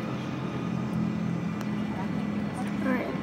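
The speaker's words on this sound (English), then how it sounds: "we're about to get pushed back, and we're ready, and we're gonna start taxiing" Cabin of a passenger airplane taxiing at night, a steady low engine hum and rumble filling the background while a person talks over it throughout.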